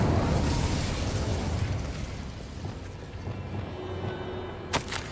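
Incendio fire spell in Hogwarts Legacy erupts in a loud fiery blast that rumbles and slowly fades, followed by a sharp pop near the end.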